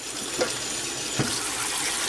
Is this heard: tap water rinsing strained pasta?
yes